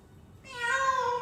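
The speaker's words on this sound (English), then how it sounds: "It's just the sound of cats meowing." A single drawn-out cat meow rises after a short quiet start, loud and close, with no other sounds around it.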